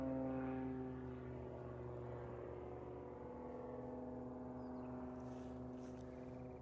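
Propeller engine of an aerobatic airplane during a hammerhead maneuver at the US National Aerobatic Championships, a steady distant droning hum with harmonic whine that fades slightly, heard alone.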